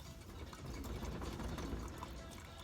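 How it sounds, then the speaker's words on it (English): Blended calamansi pulp liquid strained through a coladera, giving a faint, steady trickling and pouring wash for a few seconds with no speech. "Now I'm going to use this coladera to strain the pulp"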